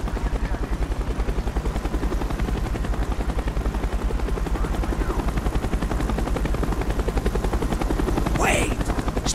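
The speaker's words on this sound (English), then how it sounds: "The chopper is coming around again." Helicopter in Call of Duty: Black Ops, a steady loud rotor chop throbbing throughout with a brief higher whine near the end, no talk over it.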